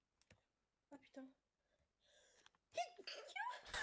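A person sneezes once, sharp and close, during a card game's round commentary, with breathing and scattered keyboard clicks around it.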